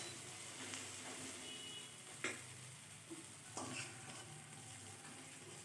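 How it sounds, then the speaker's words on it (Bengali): Chopped onions fry with salt in a pan for a Bengali parshe fish recipe, giving a steady close sizzle with a few sharp stirring scrapes and clicks, no voices. "এতে করে পেঁয়াজটা তাড়াতাড়ি ভাজা হয়ে যাবে নরম হয়ে যাবে"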